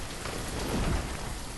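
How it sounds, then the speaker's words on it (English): Rain falling from a rain cloud in the video game Banished, a continuous hissing downpour with a slight swell near the middle, fairly loud and alone. "I think this is supposed to be a rain cloud or some form of precipitation"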